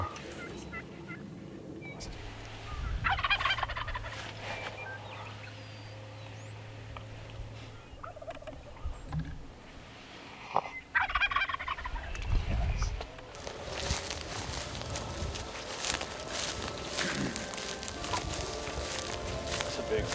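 Wild turkey gobbles ring out during a Nebraska bowhunt, loud in short bursts across the stretch, mixed with footsteps, rustling and people talking quietly in the field.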